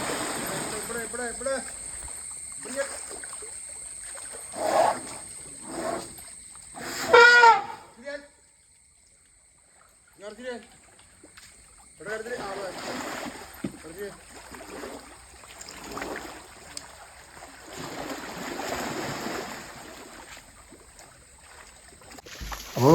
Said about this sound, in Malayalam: അപ്പോൾ പാപ്പാൻ അങ്ങനെ ആനയൊക്കെ അടുത്ത് വേണ്ട വെള്ളം കോരി ഒഴിക്കുകയാണ് ആനയുടെ ദേഹത്തേക്ക്.